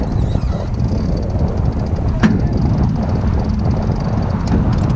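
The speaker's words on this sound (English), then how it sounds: "wind is picking up" Steady wind roars and buffets the microphone aboard a sailboat during a Wednesday night club race, a dense broadband rush that holds throughout with one brief gust-like burst midway.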